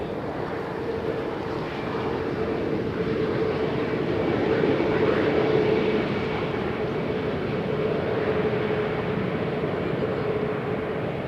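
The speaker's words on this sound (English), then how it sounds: "a Top Air Portugal Neo has just landed" A Top Air Portugal A320neo landing at Amsterdam Schiphol sends out a steady, broad jet roar with a faint whine, holding loud and even throughout from a moderate distance.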